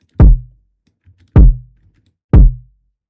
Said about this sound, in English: I want my kick drum to hit you in your stomach